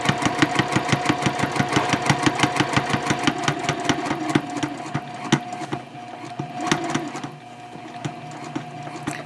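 A sewing machine stitches a fabric shopping bag at a 2.5 stitch length, with a rapid, steady needle clatter that is loud and close in the opening seconds and then slows into a softer, uneven run.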